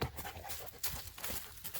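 A big dog under a table pants quickly and softly in short, irregular breaths, faint and close indoors with no talking.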